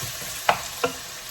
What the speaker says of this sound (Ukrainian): Зараз я все перемішаю.